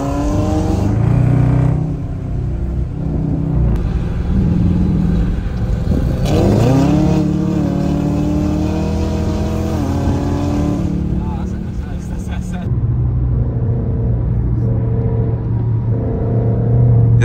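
A Dodge Charger R/T muscle car cruises downtown at night, its engine a loud, close low rumble with a rising rev in the middle, while voices talk over it inside the car.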